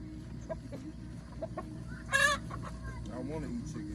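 A rooster on a homestead gives scattered short clucks, then one louder drawn-out call midway, against a steady outdoor background noise.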